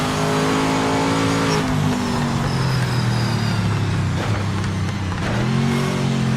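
Car engine in the PMR racing video game, steady loud engine note with revs rising and dipping through gear changes, continuous throughout with no talk.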